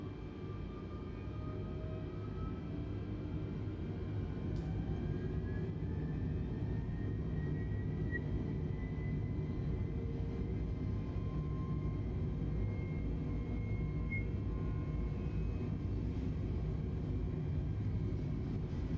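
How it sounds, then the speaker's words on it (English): Steady low engine rumble of an airplane on its takeoff run in Microsoft Flight Simulator 2020, a continuous broad drone with faint rising tones, no voices. "Here we go, we're on takeoff run."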